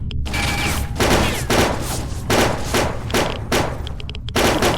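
Rapid gunfire in STALKER: Old World Addon, repeated loud shot bursts and thuds in an ongoing firefight, with brief pauses between volleys and a sustained noisy combat backdrop.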